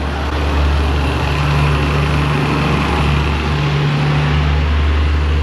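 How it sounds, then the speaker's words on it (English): A loud dump truck rumbles past outside an auto repair shop, its heavy diesel engine a steady, close, unbroken roar that holds for several seconds. "another Fast and Furious dump truck. They're everywhere in this town. That dump truck's loud by you?"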